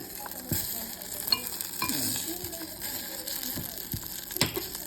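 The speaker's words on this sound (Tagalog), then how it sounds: "Lagyan na natin ng butter yung ating casserole." Butter sizzles and crackles in a casserole pan on the stove, with soft stirring scrapes and a few clinks over the light frying hiss.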